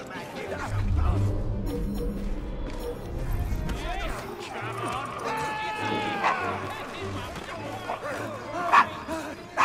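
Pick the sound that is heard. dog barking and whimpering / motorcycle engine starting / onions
dog barking and whimpering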